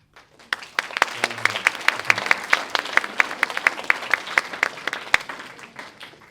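At a poetry reading, a small audience claps after a poem, starting quietly and building into distinct, fairly close individual claps in an uneven rhythm, a few people clapping at once before trailing off near the end.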